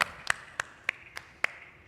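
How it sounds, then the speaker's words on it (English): Sparse claps from a small audience at a corporate summit, half a dozen sharp separate hand claps spaced irregularly, fairly faint and thin rather than a full ovation. "So big round of applause for our key panelist, Mr. Surinder Singh Ji from Hero MotoCorp Limited."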